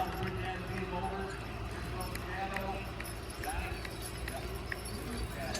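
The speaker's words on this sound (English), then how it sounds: "Beautiful team of horses" Hooves of a heavy pulling team clip-clop steadily at a horse pulling contest in East Arcade, New York, under a constant crowd murmur and an announcer's talk.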